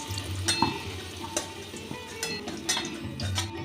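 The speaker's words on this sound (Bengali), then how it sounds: "আলুটা ভেজে নিয়েছি এবার আলুটাকে তুলে নিচ্ছি" Fried potatoes lifted from hot oil in a home kitchen while cooking a Kashmiri chicken dish, giving a steady soft sizzle with light scraping and stirring clicks, close and fairly quiet.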